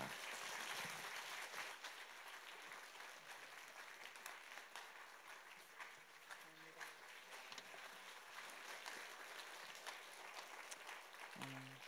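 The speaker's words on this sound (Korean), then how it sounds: "나오실 때 큰 박수로 우리 선교사님 환영하겠습니다" A church congregation at a Sunday evening praise worship service applauds to welcome a visiting missionary, producing a steady, sustained wash of clapping throughout that sounds somewhat distant and subdued in the hall.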